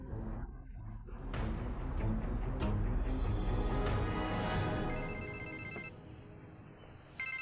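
Telephone ringing tone during a call, a sustained pulsing ring over a dense, loud background that swells midway and fades, with a short burst again at the end.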